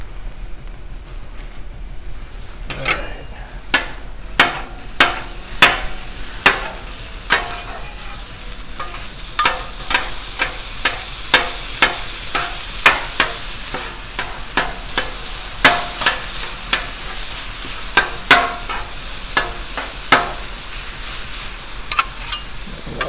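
Sloppy joe meat frying on a Blackstone griddle at about 330 degrees, a steady close sizzle broken by a long run of sharp, regular scraping and tapping strokes from a spatula, with no talking.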